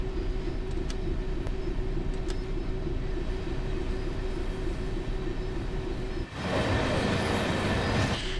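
A Class 66 diesel freight locomotive in a Train Sim game creeps forward with a steady low engine drone, then a sudden louder broadband rush swells in near the end.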